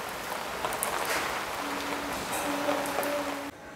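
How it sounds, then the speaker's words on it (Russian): Steady rain patters and hisses outdoors at a Hindu temple in Delhi, an even wash of drops with a faint tonal hum near the end, no talking. "у нас начался опять дождь"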